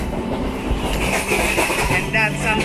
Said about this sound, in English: This is what it's like on an Indian train